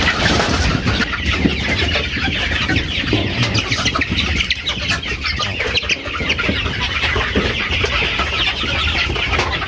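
Local deshi chickens cluck and murmur on a farm, several birds close by in continuous overlapping calls with a faint rumble of a passing vehicle behind.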